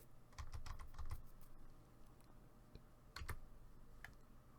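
Typing on a computer keyboard while working in design software, two short bursts of soft, quick key clicks with a pause between them, fairly quiet and close.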